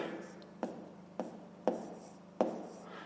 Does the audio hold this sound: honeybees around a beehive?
no